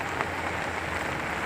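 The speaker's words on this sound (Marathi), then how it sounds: "भयानकच पाऊस आहे, बघू शकता." Heavy rain pours down at a hillside settlement as a dense, steady hiss of drops drumming on surfaces, loud and unbroken.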